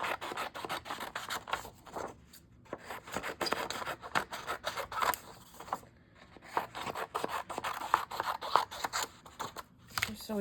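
Scissors snip and rub steadily through the pages of a book being trimmed down, a close, continuous crisp cutting and rasping with brief pauses and no voices.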